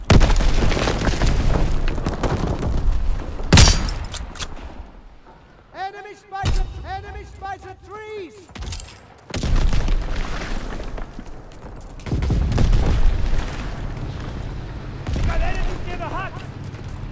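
Grenade blasts and gunfire in the Call of Duty WWII video game, a few booming explosions and sharp bursts over battle noise, with game voices shouting orders between them.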